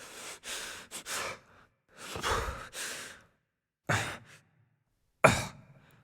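A voice performer records breathing for the main character of the parkour game Dying Light 2 on a Neumann U87 studio microphone: separate close, dry sighs and exhales with pauses between, ending in a sharp short gasp.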